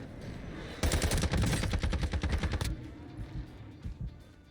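Iso Hemlock rifle fired in a video game, a loud rapid burst of close gunshots lasting nearly two seconds, followed by quieter scattered thumps and game noise.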